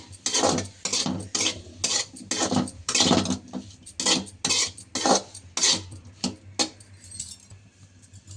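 Spoon stirring chili powder and garam masala into a paneer cashew curry, with repeated rhythmic scrapes and clinks against the pan in steady bursts, moderately close.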